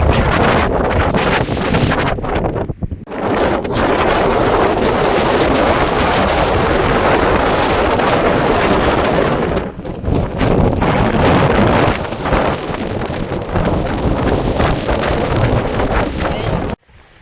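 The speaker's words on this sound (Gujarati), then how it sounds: "પવન એટલો છે, વરસાદ એવો આવે." Strong wind buffets the microphone on a hilltop during rain, a loud continuous roar with gusty surges and brief dips, under which a voice can be heard.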